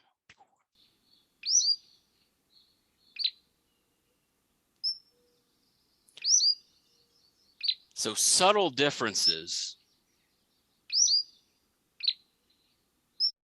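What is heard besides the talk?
recorded flycatcher song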